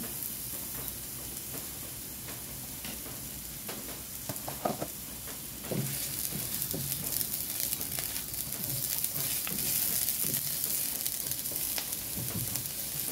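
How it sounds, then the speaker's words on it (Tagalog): Chopped onion sautéing in hot oil in a frying pan for a squash and eggplant stir-fry, a steady soft sizzle with occasional stirring scrapes and brief clinks, no talking. "Papainit na ako ng kawali with oil na yan. So, lagyan na natin ang ating sibuyas."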